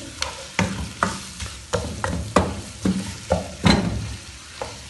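Sliced onions frying in a pan for mutton karahi, a soft sizzle under a regular series of spatula scrapes and stirs roughly every half second, close by and with no voices.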